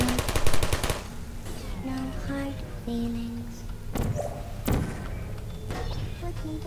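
A Portal turret unleashes a rapid, loud burst of gunfire for about a second, followed by scattered metallic clanks, thuds and a couple of sharp single shots amid the game's background tones.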